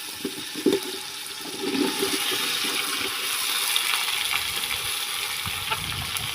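Liquid is poured into a cooking pot of matoke bananas in a Kenyan village, making a steady gushing splash after a couple of quick knocks at the start, with no voices.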